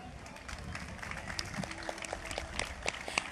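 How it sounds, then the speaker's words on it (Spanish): An outdoor crowd applauds a folk music group at a religious offering to the Virgen del Carmen in Puerto Santiago: a steady, faint wash of clapping that grows a little denser and sharper toward the end. "ese fuerte aplauso para la agrupación folclórica Taime"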